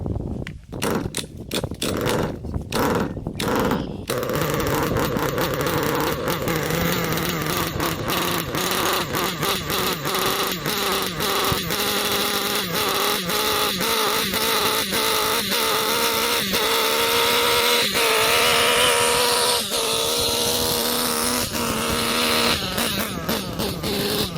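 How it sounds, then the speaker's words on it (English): A nitro RC car engine runs and warms up, a loud, high, buzzing whine held steady close by, with a few sharp blips and sputters early on and brief revs later. "Alright, so I've got the engine warmed up."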